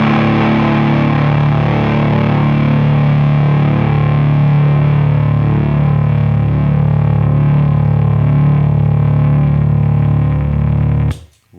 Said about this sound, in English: want to hear the Les Paul, though, with the full gain